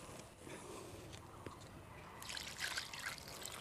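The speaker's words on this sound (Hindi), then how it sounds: "चलिए आप इस प्लांट में पानी ऐड कर देते हैं" Water pours steadily from close by into a potted mulberry plant, a soft continuous trickle that swells slightly toward the end, with no talk over it.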